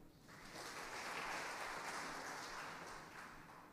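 Church congregation applauding during a sermon, a steady wash of many hands clapping together, fairly far and moderate in level, swelling briefly and then tapering off slightly toward the end.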